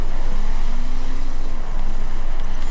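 Car engine in The Crew racing game, a Spec Dirt class car: a steady, loud engine drone holds throughout with a faint rising whine, no talking.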